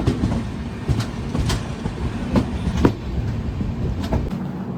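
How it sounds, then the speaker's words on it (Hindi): Mandovi Express arriving at Sangameshwar Road platform on the Konkan Railway, heard from aboard as a rumbling rolling noise with clicking wheel beats over the rail joints, moderately loud and continuous. "प्लेटफॉर्म नंबर 2 पर आगमन हो रहा है ट्रेन का"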